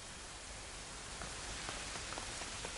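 Steady rain in the video game A Plague Tale: Innocence hisses continuously, with scattered drops pattering close by on a hard surface.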